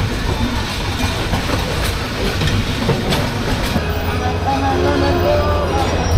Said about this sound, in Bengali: এই ট্রেনটা সিলেট থেকে আসছে, সিলেট।